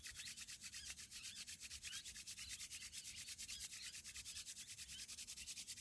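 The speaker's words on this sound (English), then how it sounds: "Rub your palms forcefully under the heat. Keep rubbing fast." Palms rubbed together forcefully and fast, a close, rapid, rhythmic swishing friction that runs steadily with no talk.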